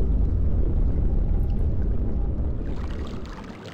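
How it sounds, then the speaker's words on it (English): In the RealMyst game, water rushes and pours in a low, steady rumble that fades toward the end, with no voices. "I hear water"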